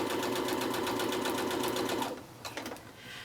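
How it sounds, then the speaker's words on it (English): A sewing machine stitching a quilt block triangle, running in a fast steady rhythmic whir close by for about two seconds, then stopping, followed by a few light clicks and handling sounds. "I am stitching a short piece to the top side of this triangle."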